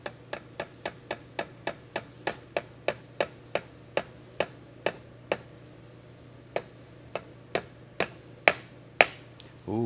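Sharp metallic taps repeat at an even pace, about two per second, close and crisp, ending with a few louder, ringing strikes.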